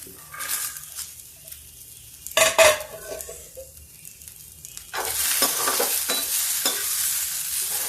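Green peas drop into a pan of ginger and cloves frying in oil, a loud burst of sizzle and clatter midway, then a steady stronger hiss and crackle over the closing seconds, with intermittent stirring and no talking.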